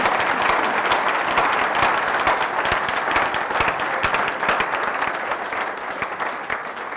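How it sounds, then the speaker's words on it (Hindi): Congregation applauding loudly during an Urdu church service in Dubai, a dense, steady wash of clapping that holds for several seconds and eases slightly toward the end. "जोरदार ताली बजाएं।"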